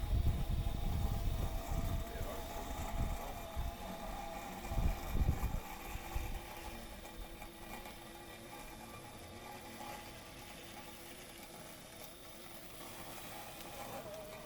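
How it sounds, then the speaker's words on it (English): A Sunseeker Elite X5 robot lawn mower with a floating cutting system cuts grass, giving a quiet, low mechanical whir with rougher rumbling bursts over the first six seconds, then settling into a faint, steady hum. "The floating cutting system is actually much quieter than I was expecting, so we'll just check out the noise samples now"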